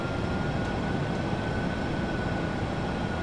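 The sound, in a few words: Boeing 737-800 engines spooling up, video game Microsoft Flight Simulator 2024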